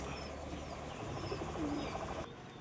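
Malobahie pigeons coo in a pair of low, rolling calls over steady loft background noise, with faint chirps higher up; the sound is fairly close and runs continuously before dropping off at the end.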